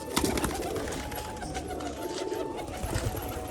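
Lotan feathered pigeons coo in low, muffled rolling calls at close range, with a busy background of faint rustles and chirps and no talking over them.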